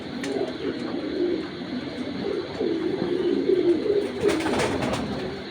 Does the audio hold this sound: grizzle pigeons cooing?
yes